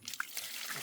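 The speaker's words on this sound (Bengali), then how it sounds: "হাত পা পুরা একদম ধুয়ে নিচ্ছি" Water running from a tap splashes over hands and feet after a walk through dew-soaked paddy fields in a village, a short close burst of steady flowing water with faint drips.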